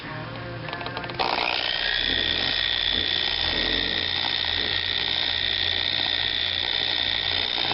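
A power polisher set to speed 3 whirs steadily while applying wax to a Corvette, a loud continuous motor whine starting after a brief quieter moment.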